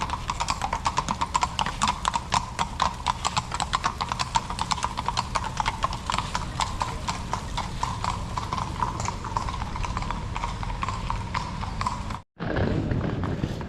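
Horses clip-clop along a street in Salzburg, a steady stream of close, rhythmic hoof strikes continuing for several seconds, briefly cut off before resuming.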